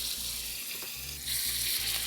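Steelhead trout pan-roasts in plenty of hot oil over medium-high heat, making a close, constant hiss and crackle that grows louder partway through, with no voices.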